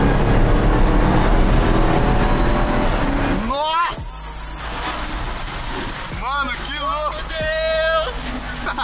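A car engine revs and surges through gear changes while driving, loud and close, with people talking over it.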